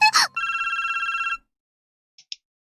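A ringing phone in the visual novel Sabbat of the Witch: a bright electronic trill that buzzes for about a second after a short chime, then two brief high beeps follow after a pause, all clear and close.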